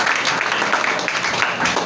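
A church congregation applauding, a dense, close wash of many hands clapping steadily at moderate loudness, with voices faintly mixed underneath.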